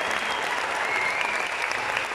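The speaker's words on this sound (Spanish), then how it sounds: "Un aplauso para ellos." A concert audience applauds a symphony orchestra at a symphonic tribute show, with dense, steady clapping from a large crowd filling the whole moment.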